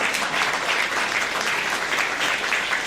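Sustained applause from a large convocation audience at Seattle Colleges, a dense steady wash of many hands clapping with no pauses.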